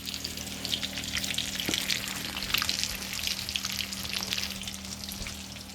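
Breaded pork chops coated in flour, egg wash and cornflakes with breadcrumbs deep fry in oil on an electric range set to medium high, giving a steady, dense crackle and sizzle throughout with no talking.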